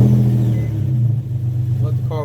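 A 2008 Infinity G37 sits idling right after a do-it-yourself oil change, its engine giving a steady, close low hum that settles down, with brief clicks and faint background noise near the end.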